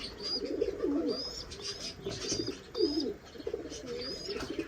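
Pigeons and doves kept together coo softly nearby in low, rolling calls, with occasional higher chirps mixed in and no speech.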